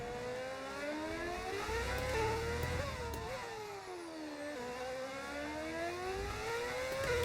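Modded race car engines in a racing video game, heard during a rainy qualifying session at Mexico, rise and fall in a quiet, continuous whine as the revs climb and drop repeatedly, with no talking.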